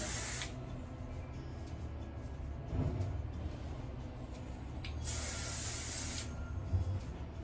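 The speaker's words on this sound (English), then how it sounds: "Hairspray." Hairspray from an aerosol can misted onto styled curls, two distinct hissing bursts, one at the start and a longer one later, close and moderately loud over quiet room noise.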